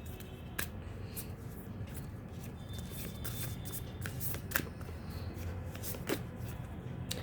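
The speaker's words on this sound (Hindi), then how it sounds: "चलिए और कार्ड्स निकालते हैं आपके लिए।" Tarot cards are shuffled and drawn by hand in a continuous papery riffle and flutter, close and fairly loud, broken by a few sharper snaps.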